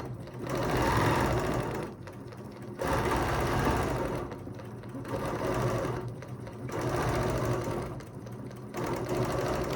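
Domestic sewing machine running in steady bursts while ruler quilting with a ruler foot, its motor hum and rapid stitching loud and close, starting and stopping several times with short pauses between runs.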